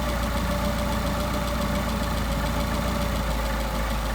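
An engine fitted with a Solex carburetor idles steadily while its idle mixture is adjusted, producing a constant mid-pitched drone with a faint knocking undertone and no talk.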